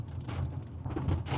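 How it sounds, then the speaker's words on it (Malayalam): Rain falls steadily near Panamaram, a brief soft wash of patter at low volume with no voices. "ഇതാ പനമരം എത്താനായി, മഴ പെയ്യുന്നു."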